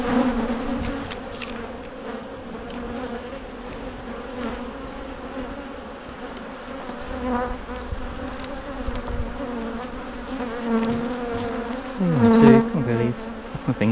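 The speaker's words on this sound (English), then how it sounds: "there's a good quantity of bees in here" Honeybees buzz densely and continuously at close range during a hive inspection, a steady droning hum with a louder swell near the end.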